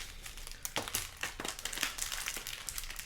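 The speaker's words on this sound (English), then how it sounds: "we're going to give these a good shuffle here" Magic: The Gathering cards from the Phyrexia: All Will Be One set being shuffled by hand, giving a steady run of close, crisp papery riffles and crinkly flutters with no talking.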